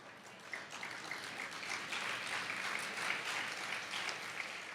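An audience at a Tamil pattimandram comedy debate applauds in a sustained, even wash of many hands clapping, moderately distant and steady throughout.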